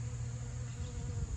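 Bees foraging for nectar and pollen on buckwheat flowers make a steady, low insect buzz that hums continuously throughout, fairly close and moderately quiet, with no talking.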